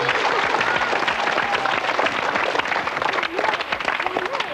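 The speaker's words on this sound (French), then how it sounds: "On va t'applaudir très fort." Studio audience applause at a French children's television show, dense and steady clapping at close range that runs throughout without pause, with some voice-like tonal sounds mixed into the crowd noise.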